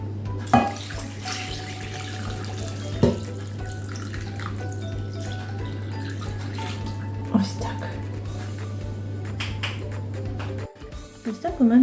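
Cooled marinade pours over mackerel in a bowl, a steady liquid rush running under a constant hum for most of the clip, with a few soft knocks and a brief clatter near the end.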